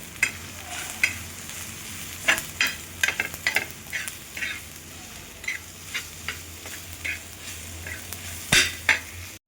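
Masala for tawa paneer bhurji roasting on a tawa, with a soft, low sizzle broken by sharp spatula taps and scrapes at irregular intervals, fairly quiet and close.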